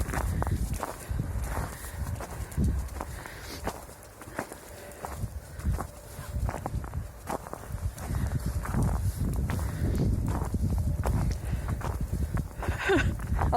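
Horse hooves clip-clopping steadily while being ridden on a first horse drive, a continuous near rhythm of footfalls with rustling and occasional background movement.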